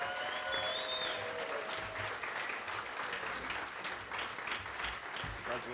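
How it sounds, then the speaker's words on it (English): Banquet crowd at a Seekonk Speedway NASCAR awards dinner applauding a champion, sustained even clapping that holds steady, with a voice briefly heard near the start. "How about a round of applause for Radical, Rick Martin."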